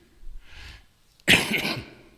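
A single sharp cough bursts out, loud and close, after a soft breath, with no talking.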